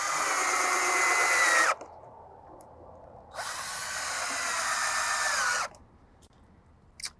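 A power drill whirs in two bursts of a few seconds each while driving screws into the wood of a playhouse being assembled. Each burst is loud and close, with a quiet pause between them.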